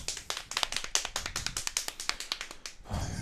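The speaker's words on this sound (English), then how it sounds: "Hand clapping, everybody." Steady hand clapping from several people runs throughout, a dense, fairly even patter of sharp claps that fades into a softer rumble at the very end, with no talking over it.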